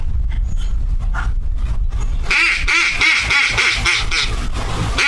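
A handheld duck call blown into imitates duck quacks, giving a rapid series of raspy, nasal quacks at close range after a few seconds of low rumbling background.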